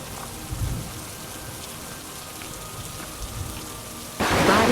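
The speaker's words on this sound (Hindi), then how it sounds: "फिर मूसलाधार बारिश शुरू हो गई।" Heavy rain pours steadily on a surface, with faint low thunder rumbles early on, before the downpour suddenly grows louder and closer near the end.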